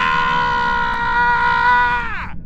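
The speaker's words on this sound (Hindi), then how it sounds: "एक दिल दहला देने वाली चीख गूंज उठी" A man in a horror story lets out a single long, loud scream that holds steady and then falls away sharply at the end, heard alone.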